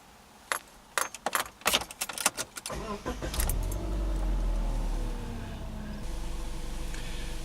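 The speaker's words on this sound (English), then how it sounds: "we want to go ahead and turn on the car" Keys jingle and clack, then an engine cranks and starts, settling into a steady idle rumble.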